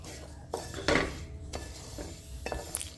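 Spoon scraping and clinking against a pan as warm jaggery syrup is stirred through a sesame sweet mixture for ellunda, a few scattered knocks and a scrape over a quiet kitchen background, no talking.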